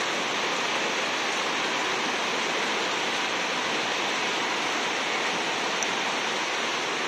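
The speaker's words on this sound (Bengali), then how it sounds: "এই 12:30টার সময় দেখো ঝেঁপে বৃষ্টি হচ্ছে।" Heavy rain pours down in a dense, unbroken hiss around midday, a constant wash of falling water with no voices over it.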